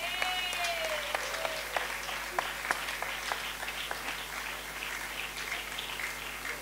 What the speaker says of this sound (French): On acclame pour les nouveaux chrétiens.